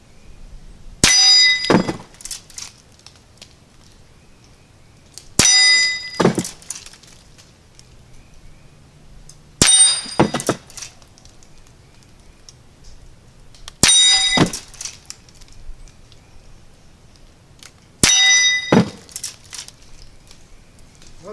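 A Henry rifle fires CCI Quiet .22 rounds with 40 grain bullets at a range: five sharp, light cracks spaced roughly four seconds apart, each with a short metallic ring and echo, and quiet between shots.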